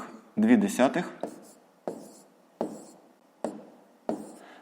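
Numbers written by hand for a fifth-grade column subtraction exercise: a short burst of scratchy strokes at the start, then a steady series of separate, fairly loud pen strokes at regular intervals, with a voice briefly heard near the beginning.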